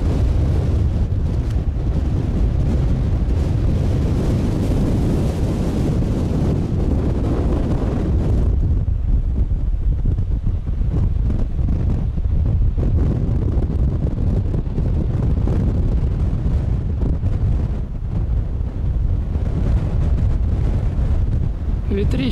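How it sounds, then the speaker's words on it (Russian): Strong, gusty wind by a river in spring flood, with lakes still iced over, buffets the microphone in a constant loud roar, easing slightly partway through but never letting up. "Ветрище просто жесть сносит."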